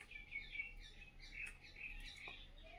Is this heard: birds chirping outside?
yes